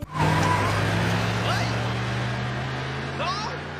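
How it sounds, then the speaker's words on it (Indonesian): A car in a film scene speeds off with tires squealing, a loud engine hum running steadily underneath, sharp squeal streaks rising near the start and again toward the end, with speech-like sounds mixed in. "Pat langsung tancap gas meninggalkan Sua sendirian"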